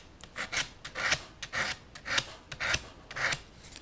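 Rhythmic scratchy rasping of sandpaper rubbed back and forth by fingertip over a wooden shelf edge, about eight close, steady strokes with no talking.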